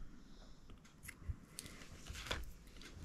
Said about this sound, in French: Je coupe un peu.